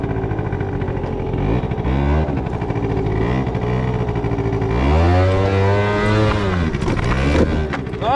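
2021 Genuine Roughhouse 50cc scooter engine revving loudly and continuously through a slow wheelie, with the pitch surging up and down as the throttle is worked, close by and heard alone.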